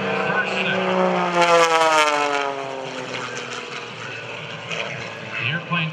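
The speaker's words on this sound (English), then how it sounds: "The airplane John flying here today, the Air National Guard's MXS." MXS aerobatic propeller plane rolling at an airshow, its engine droning and shifting pitch as it passes, moderately distant and steady, with a faint voice under it.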